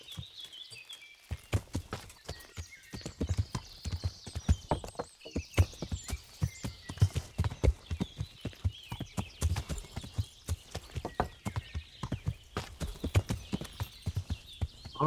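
Horse hooves clip-clop steadily in Kingdom Come Deliverance, a close, regular walking rhythm of sharp thuds lasting throughout, with a brief whinny-like call layered in and no talking.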